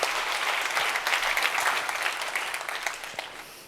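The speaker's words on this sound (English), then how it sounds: "Please, big round of applause for Parker Moss." A big room of people applauding, steady dense clapping that holds strong for several seconds before easing off at the end.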